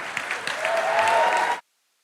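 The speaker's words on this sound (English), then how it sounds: "The applause beat my finishing the sentence." Dense crowd applause from the audience at the Florida Bar convention general assembly, steady and moderately loud for about a second and a half before cutting off abruptly.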